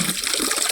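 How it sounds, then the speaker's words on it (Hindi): Water rushes into a container as it fills, a steady close splashing and gurgling that continues without a break through the short moment. "ये मैंने भर लिया डिब्बे में पानी"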